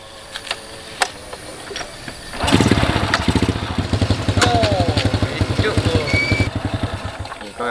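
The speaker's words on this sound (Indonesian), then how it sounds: "terima kasih lah tolong aku hidupkan motor ni" A motorcycle engine catches after a few clicks and bumps, then runs with a rapid, pulsing idle close by while voices talk over it.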